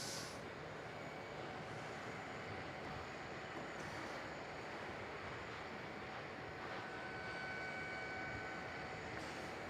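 Vietnam Airlines Airbus A350-900 landing on runway 27 at Melbourne Airport, a steady distant jet roar and rumble, broadband and continuous, heard from afar without talk.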